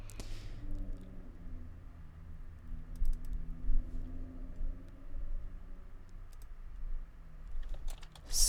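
Steady typing on a computer keyboard, a continuous stream of soft key clicks with brief pauses over a low background hum, with no talking.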